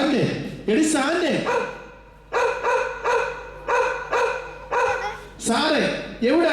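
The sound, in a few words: dog barking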